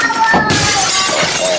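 A plate smashing and shattering, a loud crash with bright scattering fragments that sound close and dense over a little more than a second.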